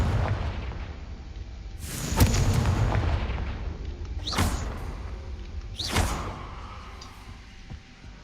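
Confringo explosion spells in Hogwarts Legacy, three booming blasts with whooshing bursts spaced a couple of seconds apart over a steady rumbling background.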